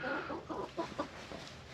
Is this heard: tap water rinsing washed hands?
no